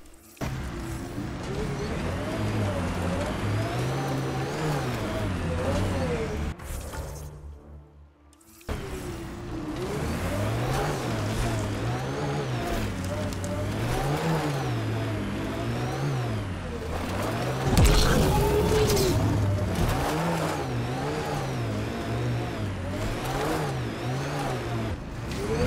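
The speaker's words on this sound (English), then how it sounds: "If I want to drive along the side of a mountain range, I am going to drive along the side of a mountain range." A vehicle engine hums and revs while driving along a mountainside in the Mass Effect Andromeda video game, loud and steady with pitch swinging up and down. It cuts out briefly before resuming, with no voices.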